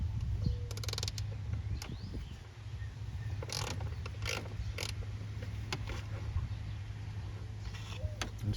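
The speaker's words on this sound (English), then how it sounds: "Just get it loose with the ratchet," Ratchet working loose a bolt on the intake of a Ford Duratec engine, a run of quick light mechanical clicks and creaks up close, with no talking.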